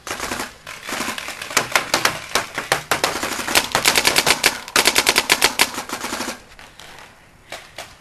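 Airsoft guns firing during an outdoor capture the flag game at Combat Houston, with rapid bursts of sharp close shots that come in dense volleys and then taper off to quieter scattered pops.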